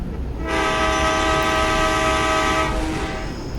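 A loud, sustained train horn from the Indian Bike Driving video game sounds over a rumbling rail background, held for about two and a half seconds before fading.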